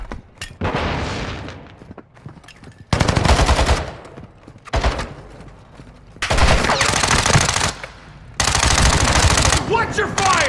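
Heavy automatic gunfire in Call of Duty: Warzone 2.0 DMZ comes in loud, sustained bursts separated by short lulls, with scattered single shots in between.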